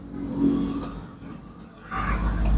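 A motorcycle engine under test runs at a low, steady idle close by, then revs up louder toward the end, with no talking over it.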